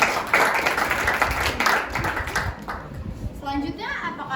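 A high school audience claps for a panelist at an Indonesian student panel discussion: a dense burst of applause fills the room, then fades as a voice begins speaking near the end.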